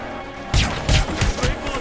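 Gunfire in the video game Hitman Absolution: a loud burst of several rapid shots with sharp reports and crashes, close and dominant, and no talk over it.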